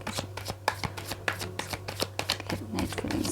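Tarot cards being shuffled by hand in a rapid run of crisp riffling flicks and soft slaps, close and fairly loud, with a steady low electrical hum underneath and no talking.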